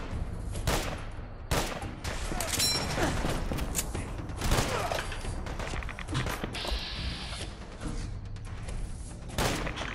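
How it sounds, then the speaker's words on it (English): Fallout 4 gunfight with Children of Atom: dense, continuous bursts of gunfire with sharp cracks and booms throughout, mixed with scuffling footsteps and occasional faint voices. "Why is there a gunfight going on?"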